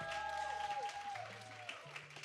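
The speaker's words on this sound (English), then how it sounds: "Erin, everybody, clap it up and let's give her." An audience at a community outreach session applauds a speaker being introduced, a soft wash of clapping at moderate distance under a steady tonal hum and background sound.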